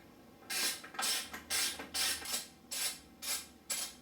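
A hand ratchet tightens four bolts into the radiator guard of a KTM 300 XC dirt bike, giving seven bursts of rapid clicking in an even rhythm, close and fairly loud with brief pauses between strokes.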